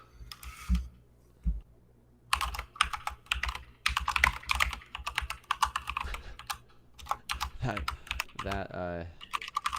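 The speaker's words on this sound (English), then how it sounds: "That keyboard always gets me" Fast clattering keystrokes on a computer keyboard in clustered bursts, close and fairly loud, with a few pauses and people chatting briefly over it.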